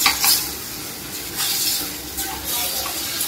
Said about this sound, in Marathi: आणि आता ही भाजी सगळी आपल्याला मिक्स करायची आहे